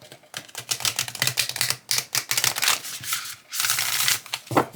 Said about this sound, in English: the classic riffle shuffle, simply because my fingers are short